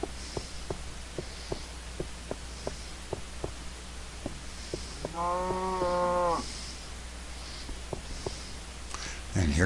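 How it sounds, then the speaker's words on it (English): A Minecraft cow gives one drawn-out moo partway through, set against a steady regular thumping and background hum in the game, with a brief noise at the very end. "And here comes the cow."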